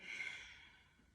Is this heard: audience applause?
no